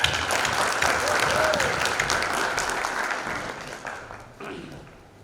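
An audience at a design debate in Udaipur breaks into sustained applause, dense and fairly loud at first, then gradually thinning and fading toward the end, with faint voices beneath.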